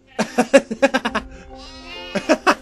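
A run of short, stuttering bleats from cartoon sheep in Skylanders: Spyro's Adventure, close and clear, broken by a brief sustained tone before more choppy bleats.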